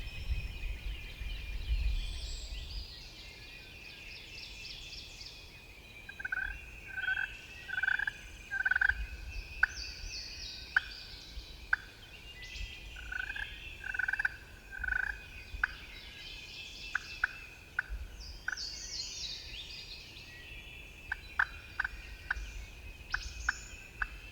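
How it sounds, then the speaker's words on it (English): A wild turkey gobbles several times in short bursts at a distance, with sharp clucks scattered between over a quiet outdoor background. "I've got him to gobble 4 or 5 times"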